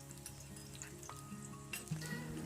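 Curry paste fries with golden-browned onions in a pan over medium-low heat for Thai massaman curry with pork: a soft, steady sizzle with light stirring scrapes, faint and close.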